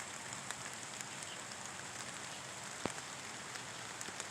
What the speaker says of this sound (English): It's been raining all day, off and on.